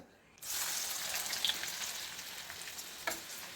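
Onion drops into hot oil left in the pan after frying bhaji for a mutton keema dish, bursting into a sudden loud, steady hiss of sizzling that carries on close by with a few faint pops.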